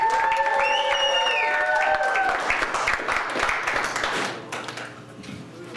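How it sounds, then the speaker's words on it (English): Clapping and crowd noise rise at a comedy club as a comic is welcomed to the stage, with a sustained tonal sound at first, then a busy patter of hands that thins toward the end. "Please put your hands together and welcome to the stage"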